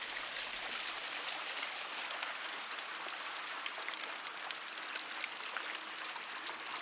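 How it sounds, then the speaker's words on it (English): A hot water fountain at a thermal spa town in Portugal flows steadily, a continuous soft splashing and pouring hiss without pause. "it was still possible to experience some of the hot water fountains"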